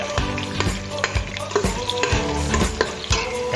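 Garlic and onion sautéing in a pan for kare-kare with tripe, with a close, loud sizzle and busy, rhythmic scraping and clanking of a spoon against the pan.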